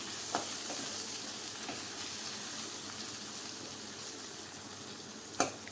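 Parval (pointed gourd) curry sizzles steadily in a pan while being stirred, a constant frying hiss with a few soft scrapes and one sharper clatter near the end.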